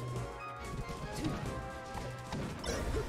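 A forward smash attack lands on the top platform during an online grand finals match of Super Smash Bros. Melee, with Sheik against Falco. Short crunching impacts sit within dense, busy game sound effects and music.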